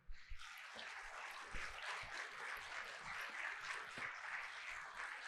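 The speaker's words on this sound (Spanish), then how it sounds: "Damos un aplauso al Señor." A church congregation applauds during a sermon, a faint, distant, continuous patter of many hands that starts abruptly and holds steady throughout, with no voices over it.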